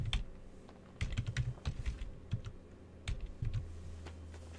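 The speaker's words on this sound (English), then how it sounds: "I'm going to type in my IP address." Someone typing an IP address on a computer keyboard, with short clusters of crisp key clicks separated by brief pauses, close and quiet.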